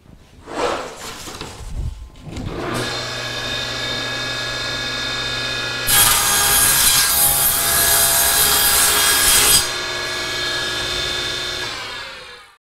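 A table saw rips a sled base panel to 24 inches, the blade whine rising loud and steady as it bites the board, with a harsher, brighter burst mid-cut before settling back to a free-spinning hum.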